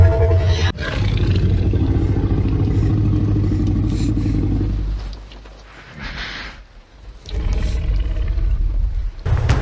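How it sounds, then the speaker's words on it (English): An elephant at a sanctuary in Plettenberg Bay, cleaning its trunk, makes a loud, sustained rumbling roar close by. The sound briefly dips, then resumes with rough blowing and snorting bursts. "Listen carefully to the noise that the elephant made."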